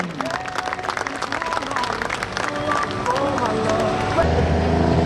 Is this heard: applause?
yes